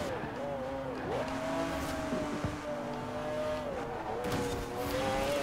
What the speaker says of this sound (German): Gas geben, Porsche.